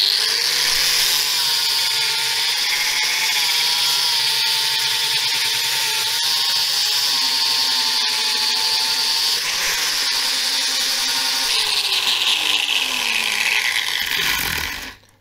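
A power tool grinds steadily against the face of a carpenter's axe, a loud continuous high whine with slight pitch shifts as pressure changes, running nearly the whole time before cutting off abruptly at the end.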